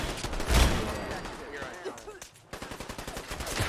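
Fallout 4 video game gunfire: rapid bursts of shots and clattering fire, with a brief lull before a fresh string of evenly spaced shots.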